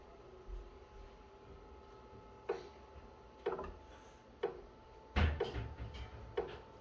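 A Shehds 100 watt moving head stage light starting up with its fan off, giving a series of sharp mechanical knocks roughly once a second over a steady low hum, the last few knocks louder and clustered.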